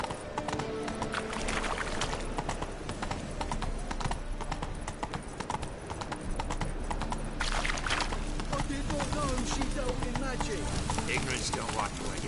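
Roach the horse trots along in The Witcher 3, her hooves beating a steady, continuous clip-clop under ambient game sound, with voices speaking over parts of it.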